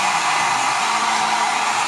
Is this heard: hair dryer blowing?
yes